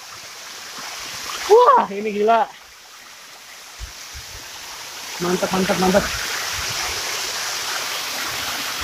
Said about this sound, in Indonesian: mohon maaf kalau suaranya ini tidak terlalu jelas dan gemuruh karena curugnya